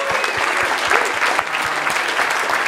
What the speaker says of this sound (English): let's just give ETH Global a big round of applause as well